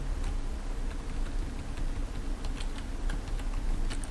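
Code is typed on a computer keyboard in a steady, continuous patter of close key clicks over a constant background hiss.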